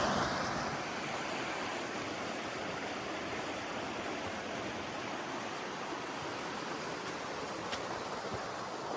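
West Creek Falls in Rocky Mountain National Park, a steady broadband rush of falling water, close and constant throughout with no voices.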